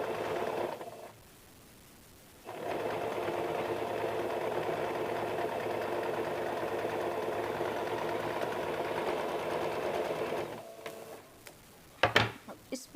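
A sewing machine runs a pressed stitch along a blouse belt strip, a steady, even mechanical whir lasting several seconds after a short pause, ending with a few clicks and knocks.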